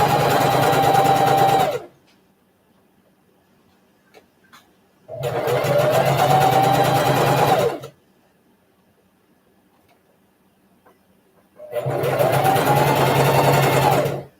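A sewing machine stitches pyjamas from Butterick 5506 in three loud, steady bursts of a few seconds each, with quiet pauses between runs.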